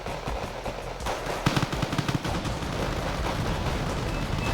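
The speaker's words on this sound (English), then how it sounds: "mortars coming in" Incoming mortar shells in the Wargame strategy game: a steady rumble of distant battle with a cluster of sharp, rapid impacts in the middle, then continued dense firing.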